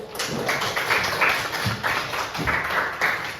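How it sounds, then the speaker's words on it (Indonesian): A crowd claps steadily for a classroom quiz answer about a British colonial fort, a dense patter of many hands with light swells and dips throughout, no voices over it. "Nah, kita beri aplaus dulu."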